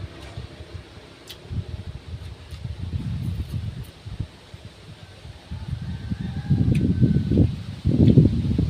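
Gusty wind buffets the microphone in low rumbling bursts that swell louder toward the end, with faint rustling in the background.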